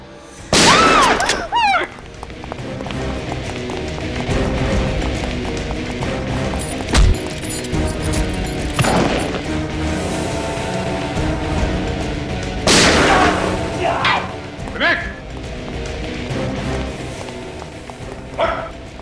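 Several loud gunshots ring out close by in a tense crime-drama scene, sharp bangs spaced seconds apart over a low rumbling backdrop, with brief voice-like cries between shots.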